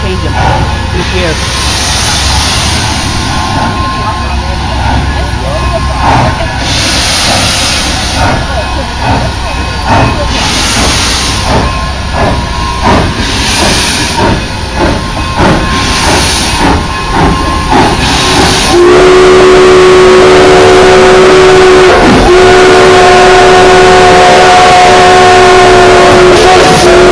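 A Durango and Silverton steam locomotive at the 2011 Railfest rumbles and hisses loudly close by with pulsing chuffs, then sounds a long, sustained chord whistle. People talk over it.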